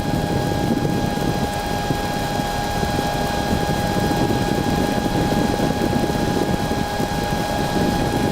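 A powered hang glider's engine drones steadily in flight at about 4,000 feet over Oahu's North Shore, loud and constant with wind rush and no speech.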